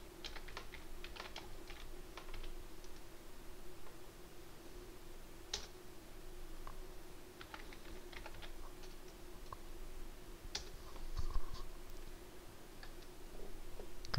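A command typed on a computer keyboard running FreeBSD: quiet, irregular clicks of keystrokes in short bursts over a low steady hum.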